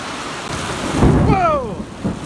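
Thunder rumbles and cracks outdoors during a summer rainstorm near a hayfield and pasture, a low broad roll swelling in the middle of the clip over steady rain, with a short faint rising tone at the end.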